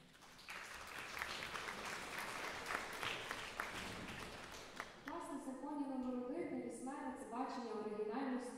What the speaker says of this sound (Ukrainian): Думаю, тут окремі аплодисменти.